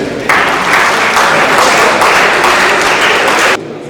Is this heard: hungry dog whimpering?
no